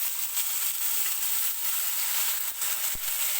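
Stuffed ivy gourds with masala fry in a pan with onions, a steady close sizzle with occasional stirring scrapes and a single sharp clink near the end.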